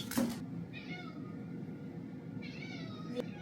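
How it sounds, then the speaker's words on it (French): A cat meows excitedly over wet cat food, giving a few short, close calls with a pause between them over a quiet room background. "ton chat devient fou quand il y a de la pâtée"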